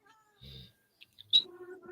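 A house cat gives a short, faint meow nearby in a quiet room, with a brief chirp and a few small sounds around it.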